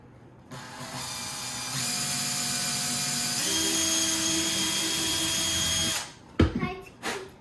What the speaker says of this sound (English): We're going to drill a hole in Chewie's head.